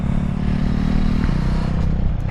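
A Ducati Hypermotard motorcycle engine runs nearby with a loud, steady, throaty rumble that holds one even pitch for the whole stretch, shifting only slightly near the end.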